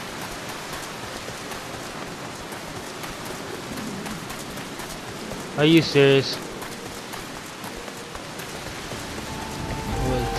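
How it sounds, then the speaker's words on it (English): Steady rainfall patters across the ground in Final Fantasy XIV, a soft continuous hiss that runs the whole way, with a brief spoken line near the middle. "Will it stop raining?"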